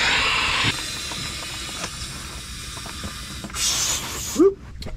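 Air hisses steadily into a camping air mattress on a boat, a continuous rushing flow with a few short mechanical clicks, ending in a brief louder burst.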